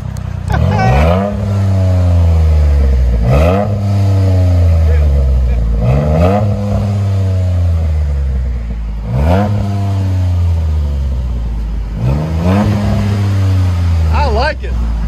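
A 2007 Dodge Nitro with a 4.0L V6 and a Black Widow Race Venom exhaust revs repeatedly, each loud, close blip rising and falling in a steady rhythm of roughly five pulls, with people talking over the engine.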